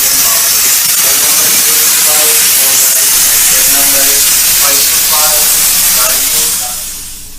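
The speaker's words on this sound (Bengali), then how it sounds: "এই হলো আমাদের স্টিম ইঞ্জিন চালিত সেই ট্রেন" Darjeeling toy train's steam locomotive hisses loudly and continuously up close, with faint tonal clanks and mechanical sounds underneath before the hiss eases at the end.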